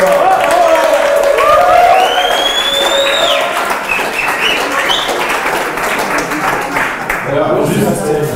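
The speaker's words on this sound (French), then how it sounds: "On l'applaudit très fort." A conference audience applauds a speaker at an entrepreneurs' event, a loud sustained wash of clapping with a few high whistle-like tones and voices mixed in throughout.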